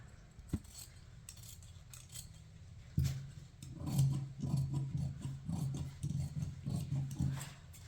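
Scissors cut a blouse piece from a silk saree, opening with a couple of separate snips and then settling into a steady run of close, crisp cutting strokes through the fabric.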